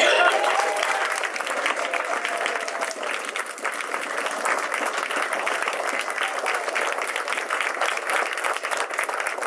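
Sustained, dense applause from a convention audience fills the whole stretch, loud and steady with a few faint voices mixed in.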